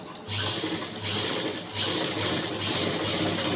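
A home sewing machine stitches the back neck of a blouse, running as a steady, close mechanical whir with a brief pause near the start and no talking.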